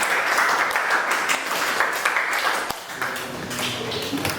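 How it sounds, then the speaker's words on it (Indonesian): An audience at a university session on global diversity gives steady applause, dense clapping that runs evenly throughout and thins slightly toward the end, with faint voices mixed in. "Tepuk tangan untuk Siva."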